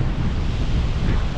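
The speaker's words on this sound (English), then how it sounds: "I've come to this running stream behind me" Rushing glacier-fed mountain stream on a high alpine trail, a loud, steady broadband roar of churning water close by, mixed with gusty wind buffeting the microphone, with no voices.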